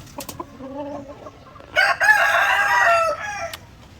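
A rooster crows loudly and close among white leghorn hens, one long strained call after a few short clucks, with no talking.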